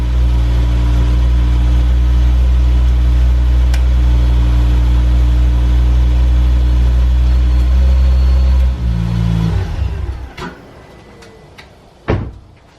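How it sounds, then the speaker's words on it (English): A Mk2 Ford Focus RS engine idles steadily with a low, even hum, its auxiliary belts spinning, then cuts off, leaving a few clicks and a sharp knock in the quiet. "Let the car run for a little bit. Belts are spinning."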